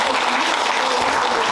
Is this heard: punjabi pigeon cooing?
no